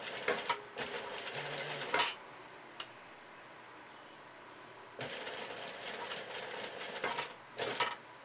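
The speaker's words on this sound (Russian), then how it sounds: "Вот так шью по той же самой линии, где согнут был карман." A sewing machine stitches old jeans along a folded pocket line, running in two loud bursts of rapid mechanical whirring separated by a quiet pause with a single faint click.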